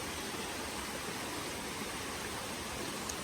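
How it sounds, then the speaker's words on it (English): Water rushes steadily in a stream at Dolgoch Falls in Wales, a continuous, even hiss of flowing water, fairly faint and with no voices. "This is a stream."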